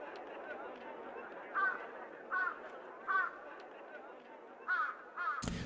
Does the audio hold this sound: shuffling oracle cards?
no